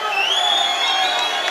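A boxing crowd at a title fight cheers and whoops for its favourite fighter, a loud continuous roar with high shouts rising above it.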